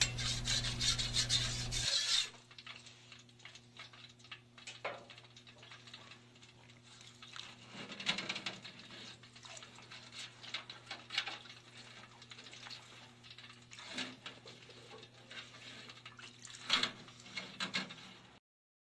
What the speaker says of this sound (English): scrape down the inside of the cooker with a spatula and use the Teflon brush to scrape the heating elements